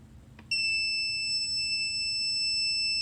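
After a faint tap, a shrill, steady electronic buzzer alarm from an ESP8266 water detector touching water starts and holds a continuous piercing tone, loud and close.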